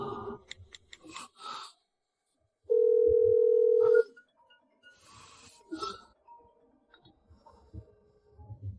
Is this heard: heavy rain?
no